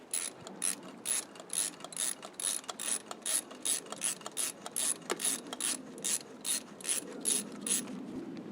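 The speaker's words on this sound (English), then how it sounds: "With the 10mm triple square, now I'm going to fully remove the top fuel pump bolt and the bottom fuel pump bolt." Ratchet clicking in steady bursts as a 10mm triple square bit backs out the top and bottom fuel pump bolts on a 2014 Audi Q5 2.0T, close and moderately loud, repeated strokes across the whole stretch with no talking.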